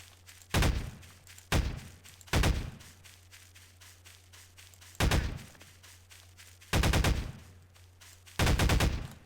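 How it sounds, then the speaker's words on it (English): Heavy thumping shots from a thwomp gun in Garry's Mod, six loud booming blasts fired singly and in pairs at irregular intervals over a steady low hum. "Oh, that's overpowered. A thwomp gun."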